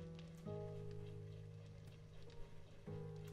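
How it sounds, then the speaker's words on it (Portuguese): Rain falls steadily in the survival game 7 Days To Die, a faint, even patter under sustained droning tones from the game's soundtrack. "Chuva, né?"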